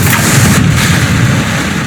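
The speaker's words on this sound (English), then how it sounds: "Whoa, look at that explosion." A hydrogen peroxide foam reaction erupts in a home studio with a loud, boomy blast. A thick wash of noise rumbles on for the whole moment, with no voices.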